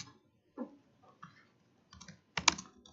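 Keys clatter on a computer keyboard while Java code is entered, with short irregular bursts of clicks, a brief pause, and a denser cluster of louder taps near the end, close up with no talking.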